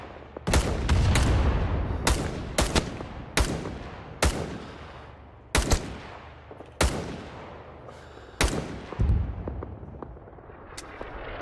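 Sharp, loud single gunshots from Rising Storm 2, set in the Winter War, ring out one at a time at irregular intervals, each with a long echoing tail in an open battlefield.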